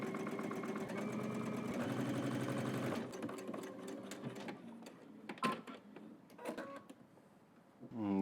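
Close, steady whir of a sewing machine stitching across a shirt collar and collar stand seam with a 5/8-inch allowance, running continuously for three seconds before giving way to scattered clicks, fabric handling and a final brief motor spin.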